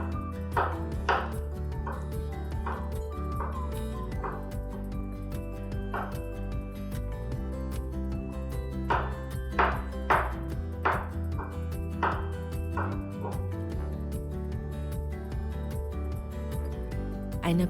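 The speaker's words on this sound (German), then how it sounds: "Halbe grüne und halbe rote Paprika in grobe Stück schneiden." Knife chopping halved green and red bell peppers into coarse pieces on a board, a steady run of crisp, close cuts in irregular bursts with short pauses between.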